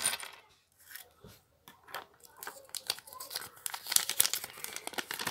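A Kinder Surprise egg's foil wrapper is torn open close up, giving irregular crinkling and rustling bursts that grow louder toward the end.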